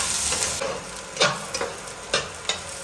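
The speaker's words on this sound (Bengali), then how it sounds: "আমি দিয়ে দেব পেঁয়াজ কুচি। ভেজে নেব ভালোভাবে।" Chopped onions frying in hot oil, a continuous sizzle punctuated by several sharp scraping stirs of a spatula against the pan, close and fairly loud with no talking.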